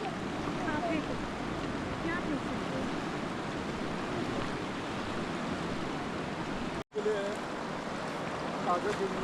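A swollen mountain river in Spiti Valley rushes past in a steady, dense roar, loud and close throughout, with a brief dropout near the end before the flow resumes.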